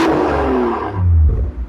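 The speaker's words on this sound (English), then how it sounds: "Give you guys some revs." A BMW M240i in sport mode gives a short rev, a loud, deep engine roar that swells and then drops away quickly, close and without talk.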